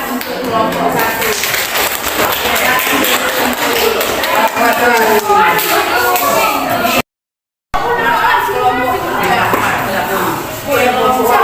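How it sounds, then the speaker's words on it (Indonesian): Audience applause fills a classroom or meeting room for a presenting group, a loud, steady wash of many hands clapping. It breaks off briefly, then resumes with the same intensity. "Beri tepuk tangan untuk kelompok 1."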